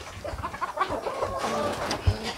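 Hens on a gamefowl poultry farm cluck and murmur while being fed, a cluster of close, irregular clucks and soft coos with scattered pecking and shuffling noises.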